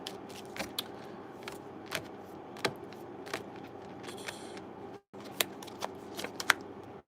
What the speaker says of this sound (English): I'm going to go into your oracle cards and kind of clarify a couple of those.